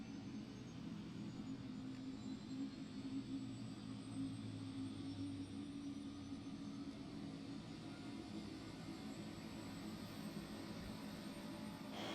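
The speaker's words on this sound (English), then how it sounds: "EGT is rising, engine has started." A turbine engine starting up as its exhaust gas temperature climbs, heard as a steady broadband roar with a low rumbling drone and a faint high whine rising beneath it, continuous and even throughout.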